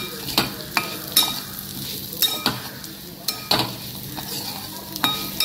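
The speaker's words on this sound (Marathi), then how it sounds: "हा रवा साधारणपणे 2 ते 3 मिनटं व्यवस्थित भाजून घ्यायचा तुपामध्ये" Semolina roasts in ghee over low heat while a spoon stirs and scrapes the pan in sharp, irregular strokes about once a second. A soft, close sizzle runs beneath the stirring, with no talk.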